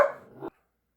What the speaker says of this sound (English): Apparently there's another dog in the neighborhood or walking down the street.